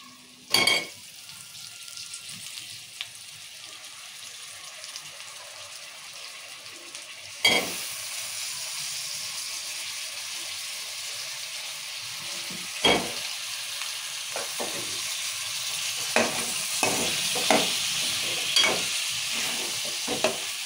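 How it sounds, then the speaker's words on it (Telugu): Eggplant pieces fry in a hot tempering in a pan, giving a steady sizzle. Stirring scrapes and a few utensil clinks sit on top, and the frying grows louder and fuller partway through. "తాలింపులో ఈ వంకాయలు వేసుకున్నాము."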